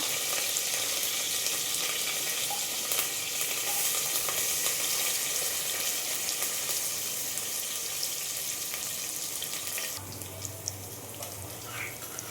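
Asafoetida and onions fry in hot oil with a dense, steady sizzle throughout. Near the end, a low hum and a brief clink join it. No one speaks.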